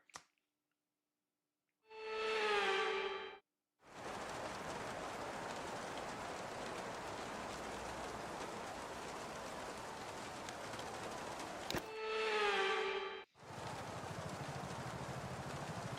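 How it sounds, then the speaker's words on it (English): Heavy rain in a racing video game pours down in a steady, dense hiss for most of the clip, broken by two short rising tonal swells near the start and end. "Oh, that is just a straight downpour."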